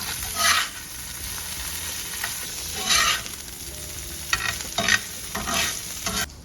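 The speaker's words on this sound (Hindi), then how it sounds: "इसको थोड़ा लाइट ब्राउन होने तक मैं कुक करने वाली हूँ। बहुत जल्दी ब्राउन हो जाता है टोफू।" Tofu frying in a pan until light brown, a steady sizzle with several bursts of stirring scrapes spaced through it, close and moderately loud, no voices.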